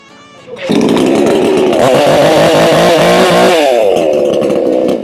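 A Black Bull 5800/6000 chainsaw engine catches and roars to life, then revs loudly and steadily up close, its rough buzzing engine note rising and falling slightly.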